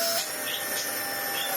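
A Dyson DC25 upright vacuum cleaner runs with a strange noise from its post motor filter, a loud, steady airy roar with a constant whine.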